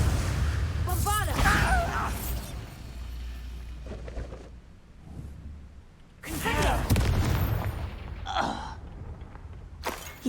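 A Bombarda spell explosion in Hogwarts Legacy, a deep booming blast with a rumbling low-end roll that swells, fades and returns, while a voice talks excitedly over the game sounds.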